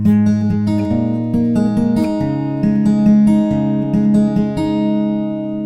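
Acoustic guitar fingerpicking a simple generic pattern twice for a song intro, with bright plucked notes ringing over a sustained bass, steady and close with no voice.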